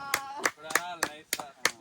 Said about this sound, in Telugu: Wow, claps claps claps.